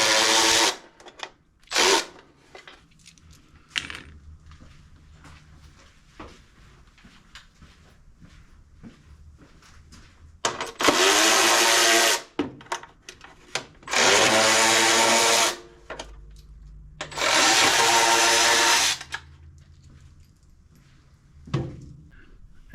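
Power drill backing out 3/8 bolts from the housing of a John Deere mower, heard as three loud, sustained whirring bursts of a few seconds each, separated by quieter clanks and handling noises of the work.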